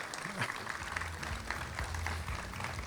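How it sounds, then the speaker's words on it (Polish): Dense, sustained applause fills a hall at a literary award gala after a prize winner is announced, with a low murmur of voices mixed in. "Brawa."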